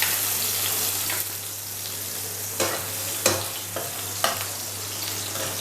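Chopped garlic frying in leftover oil from fried soya chunks gives a steady, close sizzle, broken by a few louder bursts from stirring, with no speech over it.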